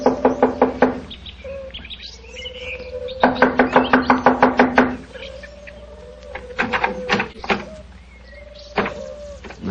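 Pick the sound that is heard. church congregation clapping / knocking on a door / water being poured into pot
knocking on a door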